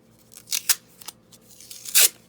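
Masking tape being torn off in several short rips of different lengths, close and fairly quiet, one louder rip near the end, with no talking.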